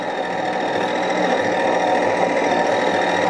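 An EGO battery-powered lawn mower mulching 3-inch grass outdoors, cutting an inch off; a steady, loud motor whir with a constant hum and no pauses.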